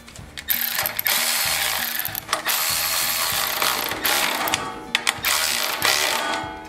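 A ratchet wrench clicks rapidly and steadily at close range while nuts are tightened evenly onto a generator's valve cover, a continuous mechanical ratcheting with brief pauses between strokes.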